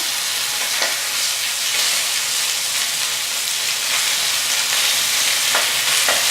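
Chicken pieces brown in a hot pan with a loud, constant sizzle and hiss, a few soft clinks of a utensil now and then, and no talking.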